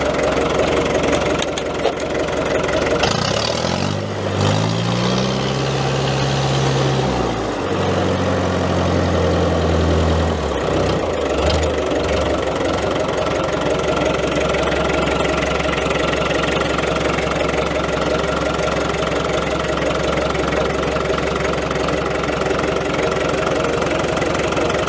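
A vehicle engine with wheel-hub reduction gearing runs in slow gear without the clutch, a steady close, low rumble with a knocking idle throughout and a shifting droning tone in the first half.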